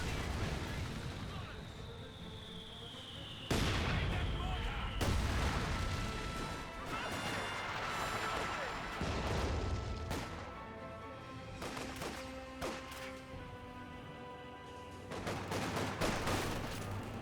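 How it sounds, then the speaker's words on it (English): A mortar half-track fires an incendiary barrage in the Company of Heroes 2 war game: a dense, continuous wash of explosions, crashes and gunfire with several sharp impacts, while a voice talks over it. "incendiary barrage by the mortar half track"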